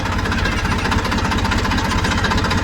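A steady, loud engine chugging with a rapid rhythmic knock, running continuously close by without any voices.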